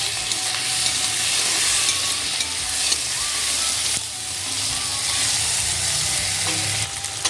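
Chopped tomatoes and ginger-garlic paste fry in hot oil with turmeric for a spicy sea crab curry, a steady close sizzle with a spatula stirring and scraping through the pan throughout, no talking.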